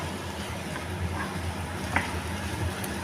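Chicken Manchurian with capsicum and onion simmers in a pan over low heat, giving a steady soft sizzle and faint bubbling, with one light clink partway through.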